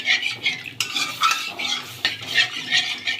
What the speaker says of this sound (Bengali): দুধ দিতে থাকবো, আস্তে আস্তে মেশাতে থাকবো